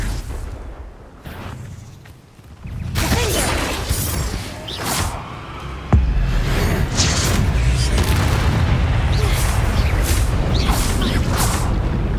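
A Confringo fire spell explodes in Hogwarts Legacy: heavy booming blasts with rumbling, crackling debris, loud and sustained, one sharp burst partway through, and a voice briefly shouting over the chaos.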